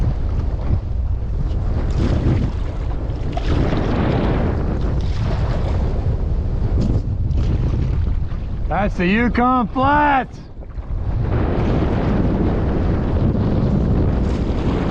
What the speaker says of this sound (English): Headwind howling